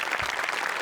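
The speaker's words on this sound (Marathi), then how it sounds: "मोठे आणि भूषण शेलार दोघांसाठी प्रचंड टाळ्या." Loud, dense applause from a studio audience cheering comedy skit performers on a Marathi comedy show, steady and unbroken for the whole short stretch.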